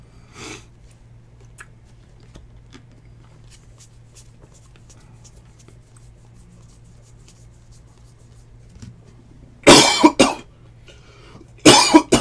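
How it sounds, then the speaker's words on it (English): A few short, sharp coughs from a person sit near the end, two loud bursts close to the microphone after a long stretch of quiet shuffling and faint handling sounds. "Cough just would not go away."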